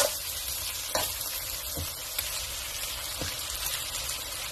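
Fried pork is stirred into a sizzling estofado sauce, giving a steady, quiet frying hiss. Several soft scraping knocks from the stirring punctuate it at irregular intervals.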